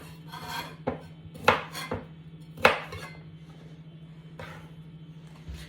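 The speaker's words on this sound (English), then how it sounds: "So I usually like to cut them into battens or fingers." A knife cuts peeled root vegetables into battens on a board, producing a handful of sharp, irregular chops and taps with a quiet background hum and no talking.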